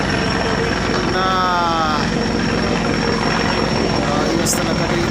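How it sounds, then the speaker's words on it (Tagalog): A helicopter approaching to land, its loud, steady rotor and engine roar filling the scene throughout, with voices talking underneath. "meron nang paparating dito na helicopter."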